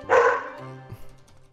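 A dog gives one loud, close bark that trails off into quieter sounds.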